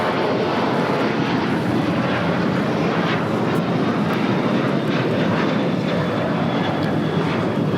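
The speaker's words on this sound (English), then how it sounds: "This is Delta Airlines 1865 taking off to Puerto Vallarta on a 737-800" A Delta Airlines Boeing 737-800 takes off from LAX with a loud, sustained jet engine roar that stays strong and steady throughout, broad and rumbling, with no voices over it.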